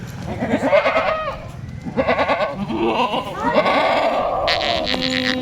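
Several Kathiawari goats bleat in overlapping, wavering calls, loud and close, with a faint background voice and a brief high-pitched noise near the end.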